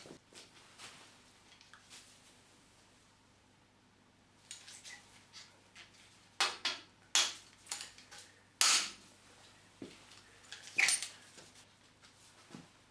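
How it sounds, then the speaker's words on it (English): A series of sharp metallic snaps from a pop rivet gun setting small rivets in a Smeg kitchen extractor grease filter, several pops spaced irregularly with quiet handling noise between them. "I'm just going to put a small rivet back in there"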